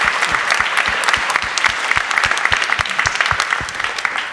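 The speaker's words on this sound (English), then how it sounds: "Can I get a big applause for the panelists?" An evening panel audience on investing applauds the panelists, dense steady clapping from a room full of people that runs without pause the whole time and fades slightly at the end.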